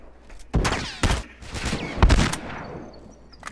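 Shotgun blasts in The Last of Us multiplayer: several loud, sharp booms at about half-second to one-second spacing, each with a ringing tail, over steady game background noise.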